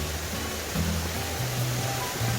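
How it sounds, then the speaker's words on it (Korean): A mountain stream on a hiking trail after rain flows with a steady broadband rush, constant and unbroken, with faint low tones beneath. "야 시내 물소리 너무 좋습니다."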